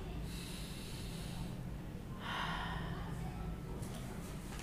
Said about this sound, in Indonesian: Tarik napas lagi.